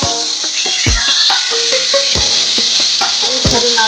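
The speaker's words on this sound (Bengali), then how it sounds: "এইভাবে নাড়াচাড়া করে আমি ভেজে নিচ্ছি" Yardlong beans and peanuts stir-fried in a kadai, with a steady hiss of sizzling oil and repeated scraping, clattering strokes of the spatula against the pan, loud and close, with no talk.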